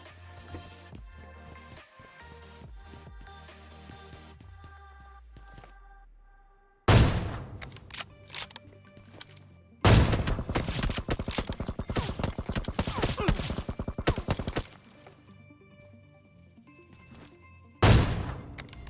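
Automatic weapon spray in PUBG Mobile: loud, rapid bursts of gunfire that start suddenly and run for several seconds, over quieter game background sounds, with no talking.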